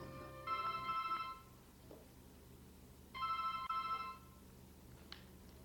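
A telephone rings twice at night in a political ad. The two bursts of electronic ringing are separated by a pause. Both sound clear but fairly quiet, with no voices over them.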